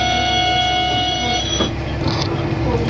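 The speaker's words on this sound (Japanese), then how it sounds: "今度は進行方向、左側の線路をさらに下って、新寺方向へ向かって行きます" A JR West local train on the Kisuki Line switchback in the mountains near Izumo-Sakane, heard from on board as a loud, steady rumble and hum with high ringing tones and a brief squeal.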